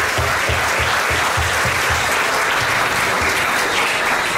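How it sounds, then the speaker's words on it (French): An audience applauds at a Paris event, with steady dense clapping throughout, fairly loud and close, and a low rhythmic thump pulsing beneath it. "à nouveau des applaudissements pour Bertin."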